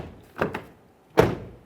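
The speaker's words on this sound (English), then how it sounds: "let's go ahead and shut the door and reopen it." The front exterior door of a 2008–2017 Mitsubishi Lancer, fitted with a new handle, gives a double latch click as it is worked, then a solid thunk as it shuts, close and clear with no talking.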